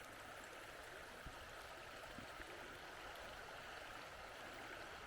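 A river flows beneath Chisholm Bridge in Glen Affric as a faint, steady, continuous rush of water with no other sounds over it.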